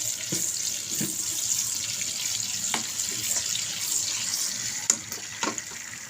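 Julienned green chillies and ginger frying in hot oil, a steady close hiss and sizzle with occasional sharper pops and crackles.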